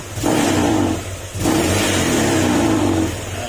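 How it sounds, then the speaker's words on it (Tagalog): A Honda Click 125/150 scooter engine idles on its center stand with a steady mid-pitched hum and a rattling vibration from the stand, briefly dipping near the one-second mark before resuming, close and fairly loud. "yung tunog na yun sa center stand po yun, dahil nakapatong yan doon sa bakal, kaya nagkakaroon ng vibration at umiingay"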